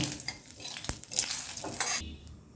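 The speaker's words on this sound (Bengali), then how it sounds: "গোটা জিরে ফোড়ন দিয়ে দিলাম জিরেটা হাই ফ্লেমে তিরিশ থেকে চল্লিশ সেকেন্ড ভেজে নেব" Whole cumin seeds crackle in hot oil over a high flame, a close, bright sizzle with clinks of a utensil against the pan and stirring scrapes, fading out at the end.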